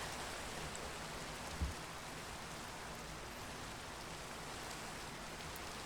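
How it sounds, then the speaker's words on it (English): Steady rain falls in Minecraft as an even, soft hiss with a single faint knock partway through, with no talking. "You can sort of see the rain."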